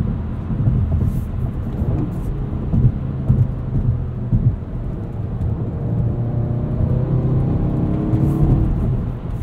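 Engine of a 2016 Volkswagen GTI SE with six-speed manual revving hard toward 7,000 RPM, a steady loud drone with rising harmonic sweeps in the latter half, heard from inside the car without talk.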